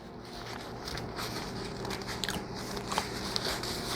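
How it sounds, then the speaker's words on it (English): Close, quiet chewing of boneless St Louis pork ribs with soft crunchy bites and wet mouth noises continuing for a few seconds, no talking. "Forgive the chewing noise"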